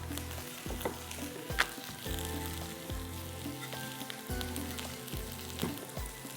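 Paratha frying in oil in a pan, a soft steady sizzle broken by several spatula scrapes and turns, close by with no speech.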